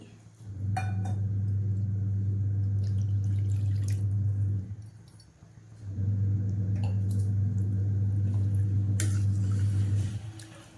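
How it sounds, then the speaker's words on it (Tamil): Water pours steadily into a cooking pot of rice in two long streams separated by a short pause, with faint clinks of metal nearby. "இப்போ இதில் தண்ணி வந்து ஊற்றிக்கிறேன்"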